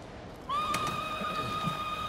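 A horse in the video game Ghost of Tsushima gives a single clear, loud whinny with a rising, wavering pitch that holds for over a second, close by, with faint ambient noise and soft hoof sounds underneath.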